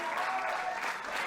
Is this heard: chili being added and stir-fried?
no